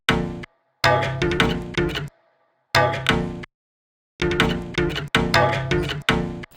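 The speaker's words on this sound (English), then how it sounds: "He was playing unplugged electric bass and we just thought it sounded really cool" A thin, twangy unplugged electric bass riff plays in short repeated phrases, with abrupt silent gaps between each bar of plucked notes.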